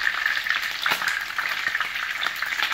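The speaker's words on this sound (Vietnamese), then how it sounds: "đang chiên thịt gà" Steady crackling sizzle of salt-and-pepper-seasoned chicken frying in a hot pan, close and continuous, with occasional stirring scrapes and no voices.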